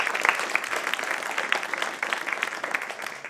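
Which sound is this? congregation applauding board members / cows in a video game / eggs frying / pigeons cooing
congregation applauding board members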